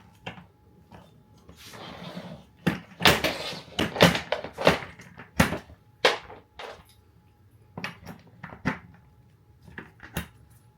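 Office chair casters are pulled out of a chair base and new ones are pushed in, giving sharp plastic clicks, knocks and snaps in irregular bursts, close and alone.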